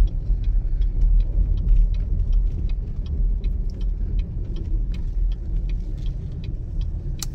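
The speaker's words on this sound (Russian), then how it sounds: "Оп, и машина, видите, там едет." A car driving past a home in the USA, a steady broadband road rumble with engine noise holding at moderate loudness throughout, no speech.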